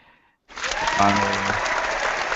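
Hands clapping in a steady, fast burst that starts abruptly and keeps going loud and close, with a brief voiced tone mixed in near the middle.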